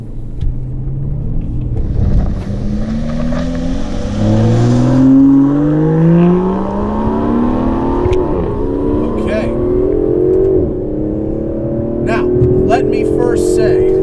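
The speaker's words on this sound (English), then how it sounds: "this now has a twin-turbo V12 in something that weighs just barely more than, let's say, a Camaro with an NA V8" An Aston Martin DB11's twin-turbo V12 pulls hard from inside the car, its loud engine note rising repeatedly through several gear changes with a deep, continuous rumble underneath.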